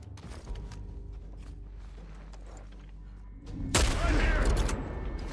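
Rifle gunfire in The Last of Us, with scattered sharp shots and mechanical clanks before a sudden loud burst of firing and rumbling impact near the end.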